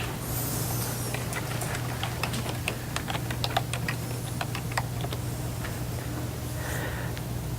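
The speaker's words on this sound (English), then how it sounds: "Open up a new tab and type citationmachine.net in" Typing a website address on a computer keyboard, with a steady run of close, quick clicking keystrokes in irregular bursts over a constant low hum.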